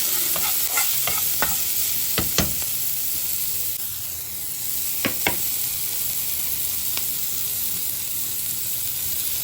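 Onions sprinkled with salt are stirred in a pan, giving a steady frying hiss marked by scattered sharp clinks and scrapes of the utensil against the pan, with no voices.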